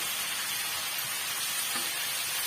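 Tomato and coconut sauté in hot oil for a pirandai chutney, giving a steady, even sizzle that hisses continuously at moderate volume with no voices.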